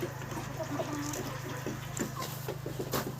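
Roosters cluck and murmur in a busy, steady chorus nearby, with a low constant hum underneath.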